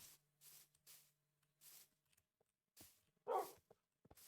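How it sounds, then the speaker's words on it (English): A dog in Minecraft barks in short, separate bursts, about seven yaps spaced irregularly, fairly faint with quiet gaps between them. "I just heard a dog."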